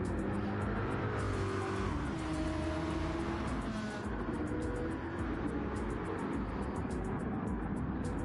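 GT3 race cars, a Corvette and a Porsche, roar through a Daytona circuit in a racing game, engines droning steadily with tyre squeal and a passing whoosh, loud and continuous throughout.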